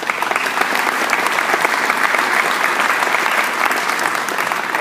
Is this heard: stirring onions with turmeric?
no